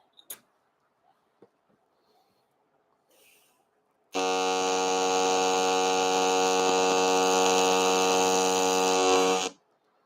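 A TIG welding arc strikes with the tungsten deliberately fouled, giving a loud, steady electric buzz with a strong hum that lasts about five seconds and then cuts off abruptly, after a few quiet clicks and taps.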